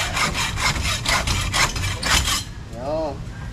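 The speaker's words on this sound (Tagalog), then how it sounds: "Yung lagari po." A hand saw cuts during demolition work on a new opening, with rapid rhythmic rasping strokes close by for over two seconds, then stopping.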